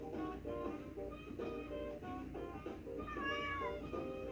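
A cat meows repeatedly in a quick run of short, tonal cries, faint and close, with a longer drawn-out meow near the end.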